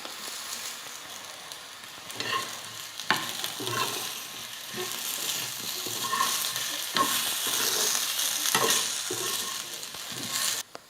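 Plantain pieces with coarsely ground spice powder stir-frying in oil, a continuous sizzle broken by repeated scraping stirs of a spoon against the pan, close and steady with no talking.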